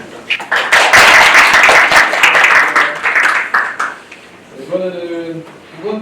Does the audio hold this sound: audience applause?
yes